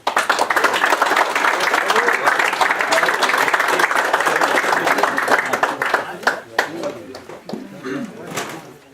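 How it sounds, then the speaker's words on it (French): Audience applauding prize winners at a pike and perch fishing competition awards ceremony, steady dense clapping for several seconds that thins and tapers toward the end. "On peut les applaudir."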